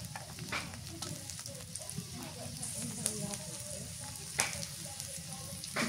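Onion and green chilli sizzling in hot frying oil, a steady, close, crackling hiss with small pops throughout, under a voice speaking.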